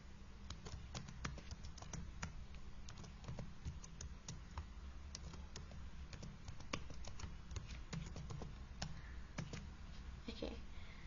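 A computer keyboard typed on in rapid, uneven bursts of light clicks to enter a chart title while building a dashboard, steady and fairly quiet against a low room hum, with no talking.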